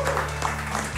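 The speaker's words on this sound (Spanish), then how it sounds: "Un aplauso para él, por favor." Applause from a studio audience on a Chilean-style football talk show greets guest Juan Martín Lucero, a steady wash of clapping over a low hum, fairly loud throughout the second.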